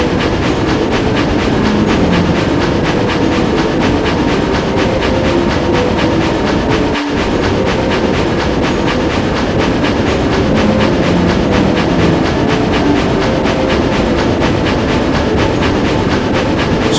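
A train sound effect for the Spirit Train pushing through a blizzard: a loud, continuous rumble with a rhythmic clickety-clack of wheels, running steadily throughout with one brief dip midway.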